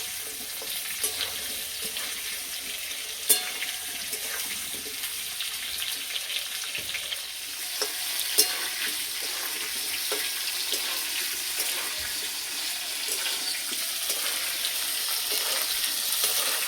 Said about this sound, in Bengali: আলু আর কপি বেশ লাল করে ভেজে নিয়েছি